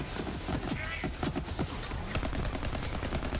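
Rapid bursts of gunfire from a COV gun in Borderlands 3, sounding dense and continuous throughout, with a voice speaking over part of the shooting.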